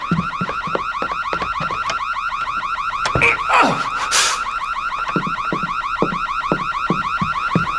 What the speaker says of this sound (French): Pourquoi l'alarme s'est déclenchée ?